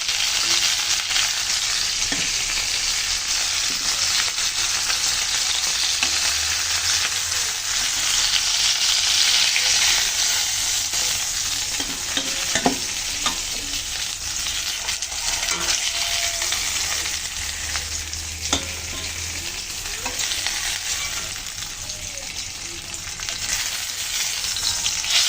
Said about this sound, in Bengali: মাছ আমি ভালো করে ভেজে নিলাম,